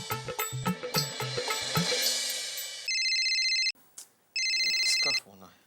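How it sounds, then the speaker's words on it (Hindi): A landline-style telephone in a Taarak Mehta Ka Ooltah Chashmah comedy scene rings with two loud, steady electronic bursts separated by a short gap, following a stretch of speech and music. "इसका फोन है,"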